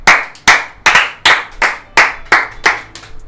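A group claps in unison at a Turkish home kitchen while lasagna is being made, about eight sharp, evenly spaced claps close by and loud, with no talking over them.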